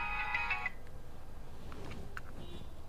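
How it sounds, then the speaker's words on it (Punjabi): A telephone sounds with a short burst of electronic ringing or tones near the start, then fades into low room hum with a few faint clicks and blips. "ਇਹਦਾ ਫੋਨ।"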